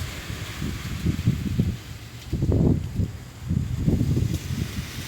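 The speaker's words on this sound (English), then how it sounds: "It's so windy out here." Strong gusts roar across a small backyard stadium in May, buffeting the microphone in low rumbling surges that swell and fade in waves, with no voices over them.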